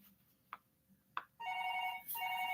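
A telephone rings with a repeated electronic bell tone, two short bursts close by, preceded by faint clicks and low background noise.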